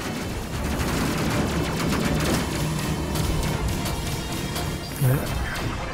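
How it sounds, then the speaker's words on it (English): Rapid gunfire pounds a spaceship in the video game Space Crew, dense continuous bursts of shots and impacts with a heavier thud near the end, under a voice. "Getting shot up pretty good, our shields are down."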